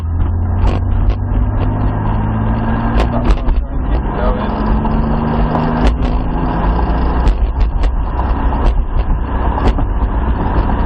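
Toyota Supra engine hauling under power in a car chase, a loud close drone with rising pitch sweeps and sharp clicks and knocks, while a voice keeps talking over it.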